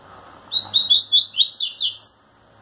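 A male rusty-collared seedeater sings to a female, a quick burst of bright, rapid chirping notes lasting about a second and a half, close and clear.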